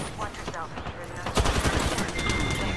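Rapid automatic gunfire crackles in a Rainbow Six style shooter video game, the shots growing denser and louder midway through, packed closely together with a low thudding layer beneath.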